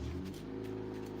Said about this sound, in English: That's my wife's car. I need to fix the muffler.